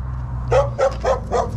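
A loose, aggressive dog barks five times in quick succession at moderate distance, sharp loud woofs over a steady low hum.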